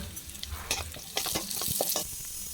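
Small onions and dried red chillies drop into hot oil tempered with mustard seeds, crackling and popping with bright sizzling bursts as they are stirred in a pan, close and fairly loud.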